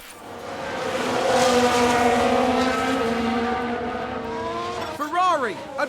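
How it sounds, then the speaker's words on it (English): Formula 1 cars race past with high engine whine and a sharp tyre lockup squeal in the F1 Manager 2022 racing game, a loud sustained sweep followed by rising and falling pitch near the end. "Looks like there's been a lockup."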